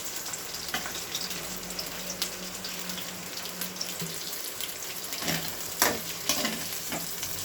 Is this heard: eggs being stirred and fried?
yes